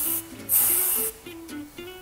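Hair colour spray hisses onto hair in several bursts, with one long spray in the middle and shorter puffs before and after, close and distinct with no talking.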